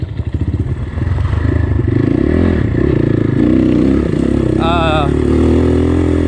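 A GPX FSE 250 E dirt bike engine gives a pulsing, rattly idle at the start, then keeps running steadily beneath someone talking.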